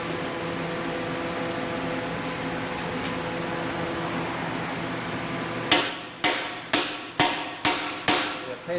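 A wheel bearing is hammered into the axle of a 2004 Ford E150 until it seats: after a quiet stretch of background hum, six sharp metallic blows land at an even pace, each ringing briefly and loud against the low drone.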